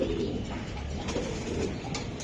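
A racer pigeon coos softly in a loft, its low throaty calls faint under steady background noise.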